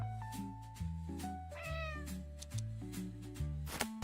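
A cat meowing continuously and loudly close by, a long run of drawn-out, wavering meows that rise and fall in pitch, each flowing into the next, with little else in the room.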